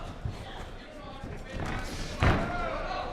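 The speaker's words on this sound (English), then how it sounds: "Hard shot to the body there by Vanderpool" A hard punch landing to the body in a pro MMA fight, a single dull thud near the end amid arena crowd noise, under continuous commentary.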